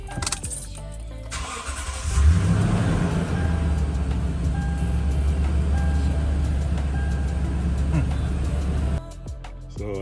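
A Toyota Tundra engine cranks and catches after ignition coil replacement, then idles steadily with a loud, close rumble for several seconds before cutting back near the end.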